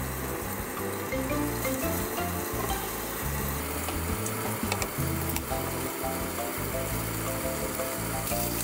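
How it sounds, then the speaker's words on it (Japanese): Sake-lees-marinated cod fries in a frying pan with a steady, close sizzle and crackle that runs unbroken throughout, with no voices over it. "次にタラの酒粕漬けを焼いていきます。"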